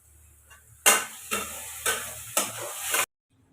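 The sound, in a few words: onions frying in a pan for curry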